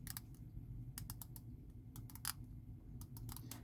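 Sharp, dry clicks from a rotating bezel on an Eoniq custom watch with a skeletonized Seiko movement, coming in short irregular bursts of close, quiet ticks over low background hum.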